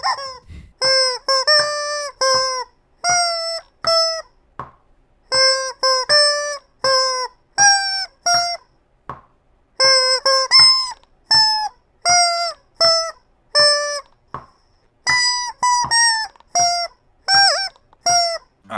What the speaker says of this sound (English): here is happy birthday on my trusty rubber chicken.